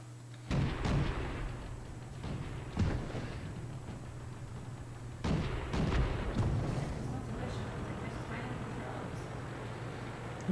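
Artillery fire in the World of Tanks video game, several heavy booming impacts spaced a few seconds apart over a steady low engine hum, with people talking throughout.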